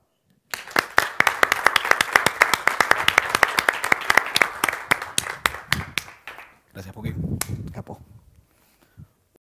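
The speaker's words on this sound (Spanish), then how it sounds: "con un fuerte aplauso recibimos a Emma." An audience at the Ekoparty security conference bursts into loud, dense applause that carries on for several seconds, then thins out and fades to a few scattered claps.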